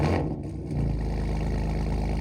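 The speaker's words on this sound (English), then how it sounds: "You press the start-stop button, and it sounds something like this." A BMW M4 GT4 factory race car, running the same engine as the road car, fires up and settles into a loud, steady idle with a dense low rumble that carries on to the end.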